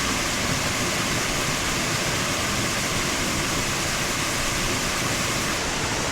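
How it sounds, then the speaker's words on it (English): Waterfall near Khao Lak, a loud, dense, unbroken roar of falling water heard up close and alone, steady throughout. "The other side of the waterfall."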